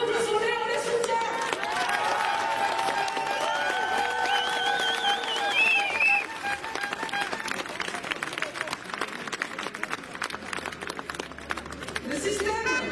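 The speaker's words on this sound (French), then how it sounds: "Applaudissons-les, on les soutient." A crowd applauds and cheers at a street protest rally in Paris's Odéon against unemployment insurance reform. Loud voices ring out over dense, continuous clapping that carries on steadily to the end.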